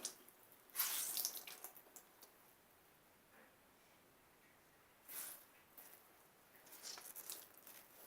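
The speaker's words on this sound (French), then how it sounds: "Je vais, putain, rincer mon gant." A washcloth is rinsed under a running tap, giving faint, brief splashing bursts of water separated by near silence.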